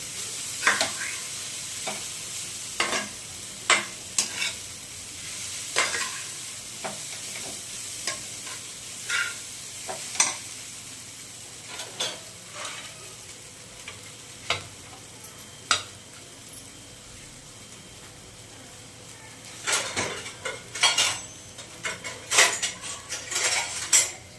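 Poha with turmeric stirred and fried in a pan, a steady sizzle under repeated scraping clinks of a spoon against the metal, close and fairly loud with no talking.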